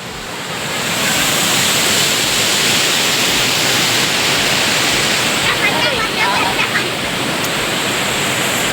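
A waterfall at a crowded Sunday picnic spot roars as a loud, steady broadband rush that fills the whole stretch, with faint voices mixed into the spray noise.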